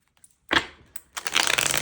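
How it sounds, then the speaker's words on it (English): A large deck of cards shuffled by hand, a brief riffle followed by a short pause and then a denser, longer burst of flicking, all close and with no talking. "So I just need to shuffle these cards"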